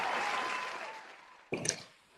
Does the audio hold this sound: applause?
yes